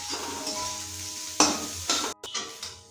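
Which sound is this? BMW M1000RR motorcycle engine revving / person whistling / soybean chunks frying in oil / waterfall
soybean chunks frying in oil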